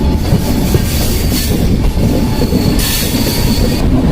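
The Bihar Sampark Kranti SF train, hauled by a locomotive, runs loud and close with a steady roar of wheels on track, rail clatter and intermittent squealing and hissing throughout.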